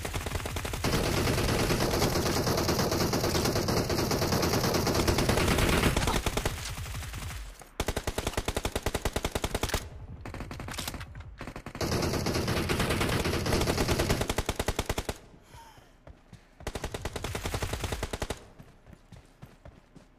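Submachine guns firing in the mobile game PUBG Mobile, loud sustained automatic bursts of rapid shots lasting several seconds each, separated by brief gaps, with faint voices in the background.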